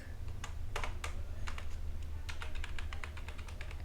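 Python code is typed on a computer keyboard in light, irregular clusters of clicks over a low steady hum, with no talking.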